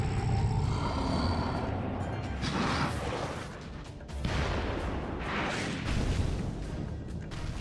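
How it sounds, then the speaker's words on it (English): Giant explosion as a fire boss falls in the Final Fantasy XIV Ifrit battle, a loud sustained roar of booming, crashing blasts with heavy low rumble throughout. "you did not have to do that giant explosion when falling down"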